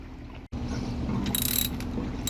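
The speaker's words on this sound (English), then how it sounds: "I'm going to loosen up the 4 bolts on the top and the bottom and open it up." A ratchet wrench loosens the bolts that attach a Hayward Super Pump to its housing, giving a steady close run of mechanical clicking with a brief break near the start.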